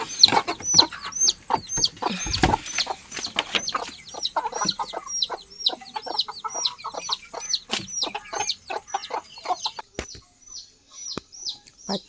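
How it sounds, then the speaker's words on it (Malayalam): Village chickens clucking and squawking close by, repeated short calls in an uneven, busy rhythm with a few sharp knocks and bumps; no talk. "എനിക്ക് കോഴികളെ പുറത്തിടാം,"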